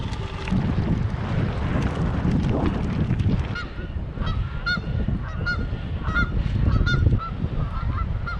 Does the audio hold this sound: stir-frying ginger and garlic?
no